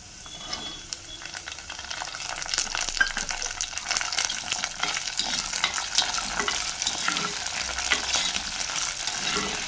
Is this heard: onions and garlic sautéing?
yes